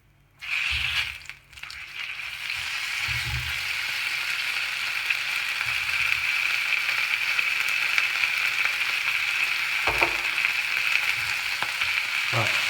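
Beef searing in a very hot pan with extra virgin olive oil, a bright hiss that erupts as the meat goes in and then holds as a steady, close sizzle with a few knocks of a utensil.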